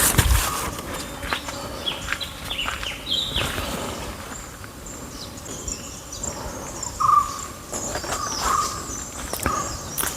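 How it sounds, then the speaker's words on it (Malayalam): Bees hum and birds call in a flowering coffee plantation, a faint insect drone under scattered chirps and whistles, with a few nearby rustles and steps. "ഈ തേനീച്ചകളുടെയും കിളികളുടെയൊക്കെ സൗണ്ടൊക്കെ ആയിട്ട് നല്ല മനോഹരമായിട്ടുള്ള കാഴ്ചയാണ്"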